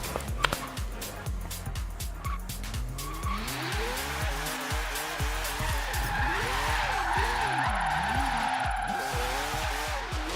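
A car drifts through the double hairpin drift zone in Forza Horizon 3, its engine revving hard and rising and falling in pitch as tires squeal and skid continuously through the turns, loud and close.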